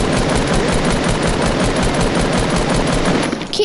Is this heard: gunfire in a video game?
yes